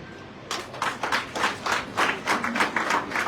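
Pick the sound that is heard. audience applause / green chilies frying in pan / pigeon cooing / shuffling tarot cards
audience applause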